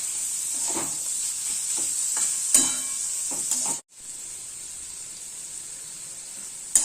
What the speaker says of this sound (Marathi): नंतर चांगले परतून घेऊया।